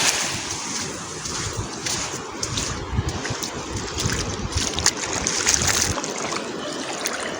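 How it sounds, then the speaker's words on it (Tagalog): Waves washing on a shore at the sea, steady broadband wash with wind buffeting the microphone, no talk, loud and continuous throughout. "Ito sa dagat."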